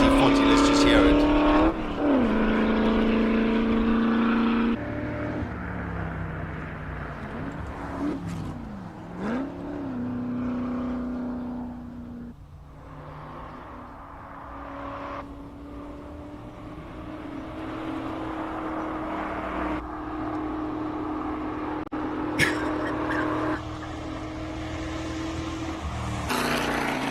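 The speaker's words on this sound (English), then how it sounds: "Beautiful GT40. Let's just hear it." A Ford GT40 classic racer powers up the Simola Hillclimb, its loud engine rising and falling through gear changes, with commentators talking over much of the run.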